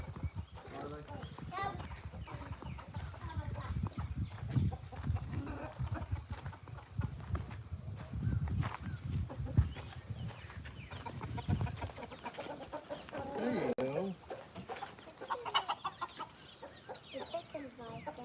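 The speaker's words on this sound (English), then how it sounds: "Let's see if the chickens want some." Chickens cluck and chatter nearby as they are offered corn, amid shuffling farmyard noise and hoof-like clopping, with a person speaking briefly.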